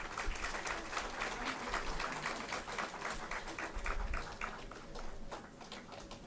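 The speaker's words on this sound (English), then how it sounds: "Keep clapping." Steady applause from a convocation audience at a business school graduation ceremony, continuous clapping throughout with a slight swell near the end.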